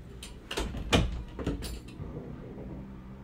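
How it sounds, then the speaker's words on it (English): Indoor door closing: a few quick knocks and scrapes build to one heavier thud, then a faint rumbling fades out in a quiet room. "Close the door."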